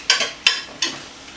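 Three quick scraping stirs of gravy into potatoes and vegetables for a crock pot roast, close-up and fairly loud, each a short wet swish with a soft tail.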